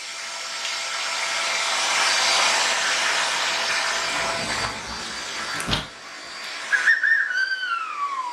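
A child runs a vacuum cleaner, a loud, steady whooshing roar lasting about five seconds before cutting off, followed by a few high, wavering whistle-like tones.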